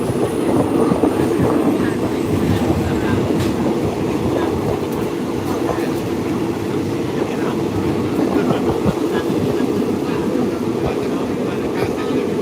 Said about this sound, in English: I might as well just jump on the train and go over the viaduct